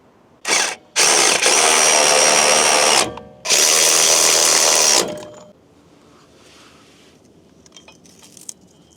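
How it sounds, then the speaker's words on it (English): A power impact tool bolts wheel light parts and spacers onto a Ram 2500 pickup. It makes two loud, sustained whirring bursts of about two seconds each, close to the listener, then cuts to quiet with faint handling noises. "So now get everything bolted back up and run some wires."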